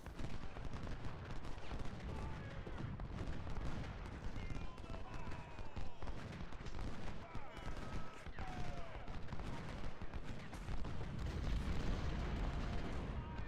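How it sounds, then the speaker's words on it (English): Heavy artillery fire and gunfire from an Ultimate General: Civil War battle, with continuous dense booms and crackling volleys rolling on without pause across the whole stretch, under faint talk. "Heavy artillery reinforcing the enemy."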